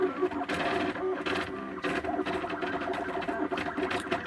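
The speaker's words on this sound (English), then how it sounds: "I built this 3D printer" Self-built 3D printer at work on a print-in-place fidget cube, its stepper motors whirring and chattering in rapid shifting bursts, steady and fairly close with no voices.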